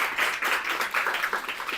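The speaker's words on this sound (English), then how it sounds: "I really want to have you all give a big round of applause for Natalie from Substract" An audience at an accessibility meetup gives a round of applause, with dense, steady clapping from many hands that holds at an even level throughout.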